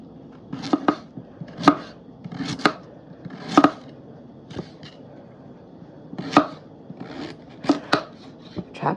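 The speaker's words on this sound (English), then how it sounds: "Chop them how you want to chop them. I'll chop them my way. Trying to get little cubes." Knife chopping rinsed, peeled potatoes into small cubes on a cutting board, with sharp, irregular chops close by and a few short pauses between bursts.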